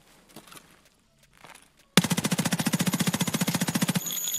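Kedr submachine gun firing in a shooting video game: a loud, rapid full-auto burst of evenly spaced shots lasting about two seconds, preceded by faint quiet movement sounds, with no talking.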